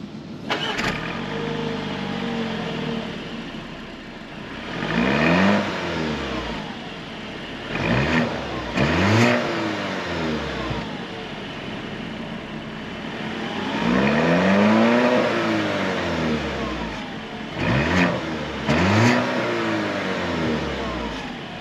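A 2025 Audi Q7 45 Premium Plus with a four-cylinder engine on a test drive, revving repeatedly in rising and falling sweeps, several loud surges separated by quieter idle stretches, with no talking.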